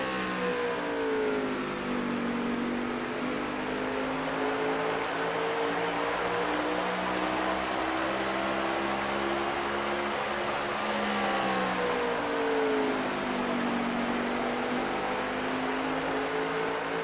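Stock race cars roar around the Richmond short oval in the closing laps, a dense, continuous engine drone with rising and falling pitch sweeps as cars pass and accelerate, loud and steady throughout with no talk.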